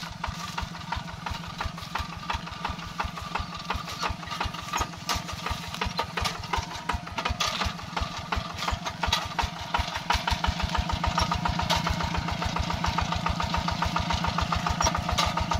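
A G600 tractor engine chugs steadily up close with a rapid, rhythmic knocking pulse as it climbs down a steep, high bank into a field, growing slightly louder toward the end.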